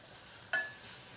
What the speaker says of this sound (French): Chunks of vine-ripened tomato are added.